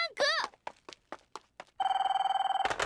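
Telephone ringing in the PS2 game Nodame Cantabile: a rapid electronic trilling ring in a steady pulsing burst, following a few short bursts of voice and sound effects.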